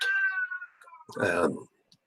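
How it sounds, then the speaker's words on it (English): A cat gives two meows close by, the first drawn out and falling, the second shorter and harsher, with quiet pauses around them. "You can hear Brat the cat in the background"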